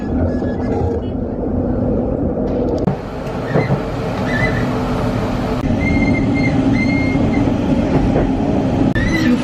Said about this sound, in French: donc je m'y rends en tramway